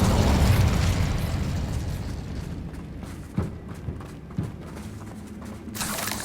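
Incendio fire spell blasts in the video game Hogwarts Legacy, opening with a loud fiery whoosh that fades, followed by a few sharp impact pops and a brief burst near the end.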